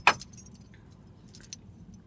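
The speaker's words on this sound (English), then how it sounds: "My car keys." Car keys jangle close by with a sharp metallic clink at the start, then softer rattles and a second bright jingle, over a quiet low background hum.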